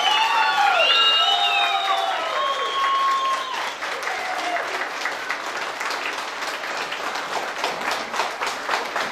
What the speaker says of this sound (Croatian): Ako može, da ustanemo jedan veliki aplauz za naše mladence.